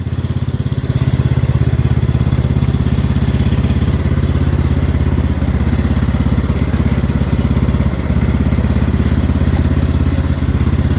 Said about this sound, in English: let's go put the tractor in, park the tractor into the backyard